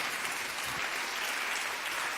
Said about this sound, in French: donc vous pouvez les applaudir